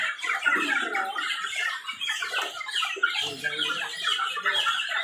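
Chickens on a farm in Barangay Dahog, Baguio City squawk and cluck in a busy overlapping chorus, close and fairly quiet, with no talk over them.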